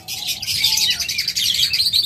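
Close, busy chirping from a split blue mutation pair of clear-headed pet birds, their rapid tweets running nearly nonstop with no one talking.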